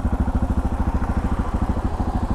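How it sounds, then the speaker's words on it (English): A Suzuki V-Strom motorcycle engine idles a little high, a steady, close, even pulsing throb with a faint mechanical clatter and no voices. "It's idling a little high."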